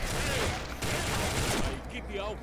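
Rapid gunfire bursts from the online shooter game Combat Arms, dense overlapping shots filling the short stretch at a loud level, with a brief quieter gap near the end.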